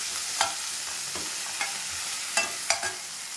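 Guava chutney ingredients sauté in a pan with salt, soft sizzling broken by several quick scraping stirs of a spoon, close and fairly quiet.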